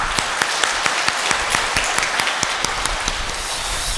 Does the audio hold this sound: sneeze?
no